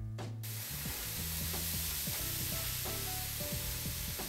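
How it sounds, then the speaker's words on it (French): Velvet crabs fry in very hot oil with a steady, dense, close sizzle that hisses without a break, while faint low tonal sounds drift underneath. "On va les faire fortement rissoler dans un récipient avec de l'huile très très chaude."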